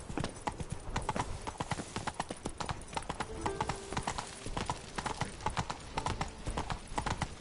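Roach the horse trots in Witcher 3: Blood and Wine, a steady, close clip-clop of hooves that keeps an even rhythm throughout.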